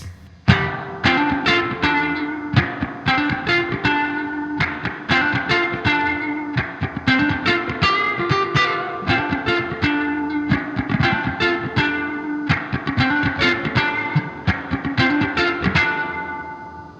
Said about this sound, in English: And reverb turned all the way up to 10.